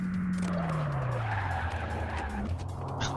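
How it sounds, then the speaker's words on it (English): A racing car sliding into a drift in the V-Speedway VR arcade racer, a loud sustained tire skid with a low engine note sliding down in pitch, all in one continuous screech. "Let's see if we can get a little drift going here"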